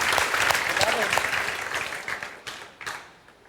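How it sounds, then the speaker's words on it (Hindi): An audience at a gathering with a mahant gives a welcoming round of clapping, dense at first, then thinning into a few scattered individual claps as it dies away. "जोरदार तालियों से स्वागत करें।"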